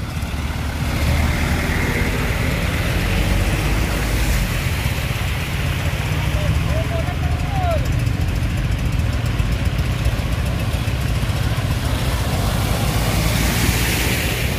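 A car drives fast through deep flood water on a submerged road, a broad steady rushing and splashing roar with an engine hum underneath, loud and continuous throughout.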